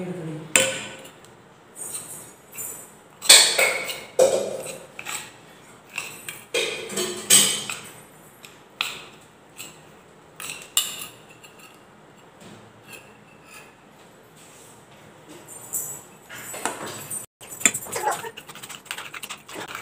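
A spoon clinks and scrapes against a bowl while stirring powder into curd, in uneven bursts of close clicks and taps with quiet gaps between them.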